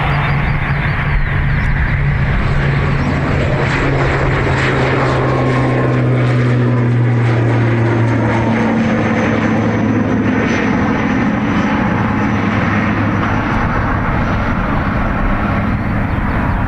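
An ATR turboprop airliner on runway 28 right at Dublin Airport, its propeller engines roaring loud and steady throughout, with the pitch gradually sliding lower.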